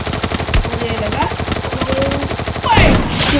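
Gunfire in a shooting video game: rapid, continuous bursts of automatic shots rattle throughout, with a louder, denser volley near the end.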